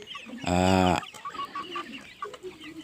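Free-range village chickens on a small home farm, with one loud close cluck or squawk followed by softer scattered clucks and calls in the background.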